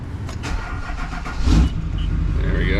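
Old Duramax diesel truck engine turns over and catches, settling into a rough, loud idle close by, with a few faint background noises and no talking.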